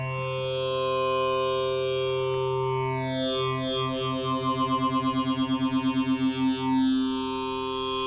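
A sustained FL Studio synthesizer tone passes through a phaser effect whose sweep speeds up and reverses direction, producing rapid pulsing, whooshing notches before slowing again; no voice.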